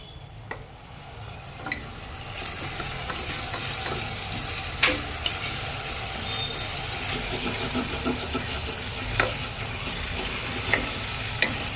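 Onion, ginger, chili and vegetables sizzle softly in a pan over a low gas flame. A steady frying hiss is broken by a few faint clicks of stirring, and no one speaks.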